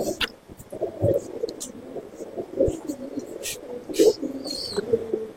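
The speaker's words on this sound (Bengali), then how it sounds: "এটা কামারগা পায়রা।" Kamarga pigeons at a pigeon sale coo in low, repeated rolling calls at close range, with quiet voices and whispering in the background.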